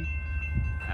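A CSX freight train led by an AC4400CW locomotive on main track 2 gives a brief, low steady rumble with a faint tonal hum, moderately distant and without talk.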